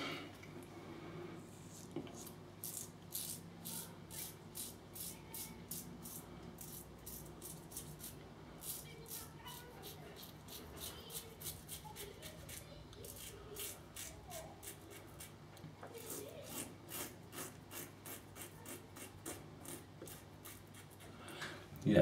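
Rockwell 6S safety razor with its aggressive plate 6 scraping across lathered stubble, a steady run of close, raspy strokes in quick rhythmic bursts, with a short pause partway through.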